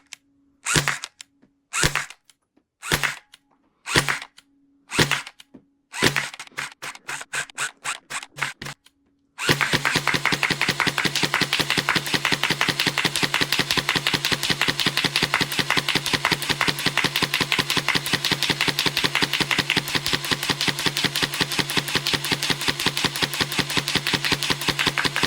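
A Nerf Gel Fire Nightfall Uproar blaster gives a few separate single shots and a short burst, then fires gel rounds in a long, fast, continuous stream of rapid mechanical pops with the trigger held down, close and loud.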